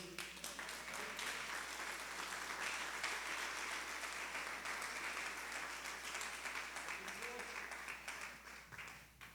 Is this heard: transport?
no